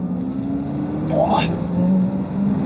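An Audi RS e-tron GT pulls hard under acceleration, a rising electric whine sweeping upward with a brief shift into second gear, steady road rumble beneath, people talking and exclaiming over it.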